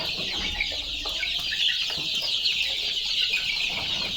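Chickens and young chicks cluck and peep steadily inside a brooding pen, a dense, continuous chorus of close, high chirping with softer clucks underneath and no voices.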